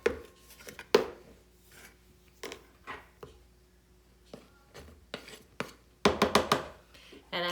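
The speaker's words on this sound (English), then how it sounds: "Okay, so I've mixed almost 5 cups of flour in the butter and the molasses mixture." Flour is worked by hand into a butter and molasses mixture for cookie dough, giving scattered soft scraping and tapping strokes with quiet gaps, then a denser burst of scraping near the end.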